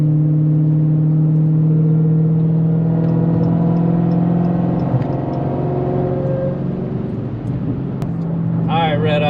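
A DiabloSport-tuned Dodge Redeye making about 850 horsepower revs hard and holds a steady high engine drone, with its pitch climbing and shifting, loud and close, and a brief voice near the end.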